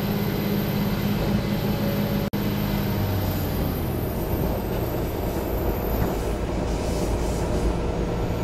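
An airport rail link train at Surakarta, Indonesia, runs along a wobbly new section of track, giving a loud, steady rumble of wheels and carriage throughout with a brief sharp click early on, and no talking.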